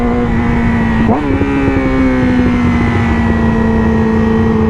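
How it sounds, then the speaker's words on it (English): A motorcycle engine hums steadily, then gives one brief throttle blip with a short pitch rise and fall as the rider clutches and downshifts, settling back to a loud, even drone afterward. "I'm gonna blip the throttle, I'm gonna clutch and downshift all at the same time"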